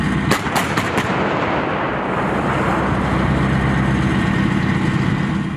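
A German PzH 2000 self-propelled howitzer fires: four sharp, loud blasts in quick succession, then a broad, heavy rumbling roar that lingers to the end.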